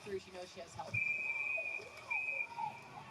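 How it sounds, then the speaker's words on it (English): Referee's whistle at a women's Olympic ice hockey gold medal game between USA and Canada in Beijing, two sharp shrill blasts over faint arena crowd noise and commentary. "Whistle blows."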